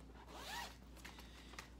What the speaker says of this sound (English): It has tabs on each side so you can hold it when you do the zipper.